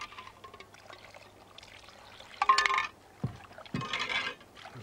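Water poured into a dish outdoors in a Spanish setting, coming in a few short splashy bursts, close and fairly quiet.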